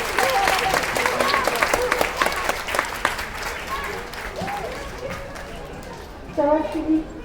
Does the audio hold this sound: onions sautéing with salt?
no